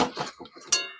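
A metal kadai (wok) is set on a lit gas stove. A few quick metallic clinks and knocks end in a brief ringing clank, close and fairly quiet, with no talk.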